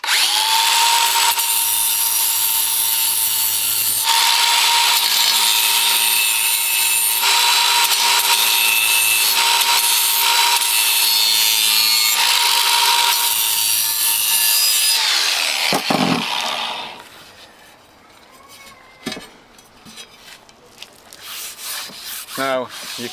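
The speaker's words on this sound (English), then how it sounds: "just clean that up with the grinder" An angle grinder cleans up the corner of a floor tile offcut, giving a loud, steady, close grinding whine for about fifteen seconds that then winds down and gives way to quieter clatter and handling noise.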